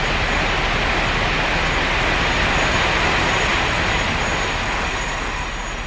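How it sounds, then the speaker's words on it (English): A train passes in the farming video game Farming Simulator 22 as a loud, steady rumbling roar with a faint high whine above it, continuous throughout with no voices. "Very noisy, that train."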